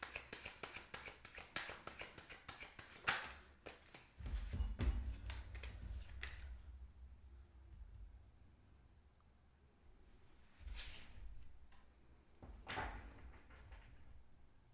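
Tarot cards riffle in rapid bursts of crisp flicking, followed by softer handling, a thump and a couple of brief shuffles; no one speaks.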